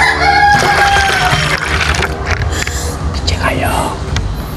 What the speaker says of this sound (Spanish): ¡Pinche gallo!